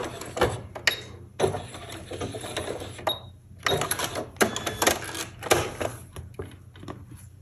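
A sewing machine stitches a fabric-wrapped rope bowl in bursts of rapid mechanical clatter, broken by short pauses, close and moderately loud.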